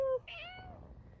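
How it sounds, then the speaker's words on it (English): A cat gives one short, faint meow outdoors in a garden, with quiet background noise and no talking. "Huh, kitty cats."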